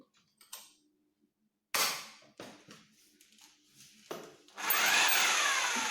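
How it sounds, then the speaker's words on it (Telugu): A hammer drill with a masonry bit bores into a wall. A few sharp knocks and short rough bursts lead into a loud, sustained grinding whir near the end. "ఈ బిట్ అనేది తిరుగుతూ ప్లస్ హ్యామర్ అనేది వస్తుంది."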